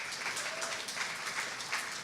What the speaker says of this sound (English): Can we get a warm applause again for Mr.